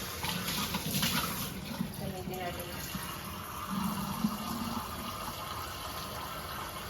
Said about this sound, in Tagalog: So, maglalagay tayo ng tubig.